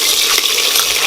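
Onion paste fries in a pan with a bright, hissing sizzle, a short close burst of crackling heat.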